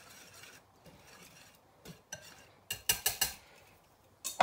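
Dry flour, salt and baking powder being stirred for samosa dough, with a quiet scraping hiss followed by a run of sharp clinks of a spoon against the bowl near the end, close and fairly loud.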